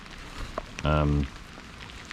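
Early-morning rain falls steadily at Fuji Sea, near the foot of Mount Fuji, as a faint, even patter, briefly overlaid by a short, loud, tonal horn-like sound.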